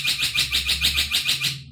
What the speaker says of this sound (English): birds are close by.